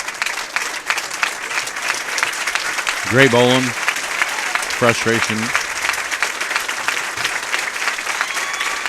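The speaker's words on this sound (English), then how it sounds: "Crowd giving him a great ovation." Crowd applause at a Wisconsin high school bowling singles championship, a steady broadband wash of clapping filling the arena throughout, with a commentator's voice talking over it.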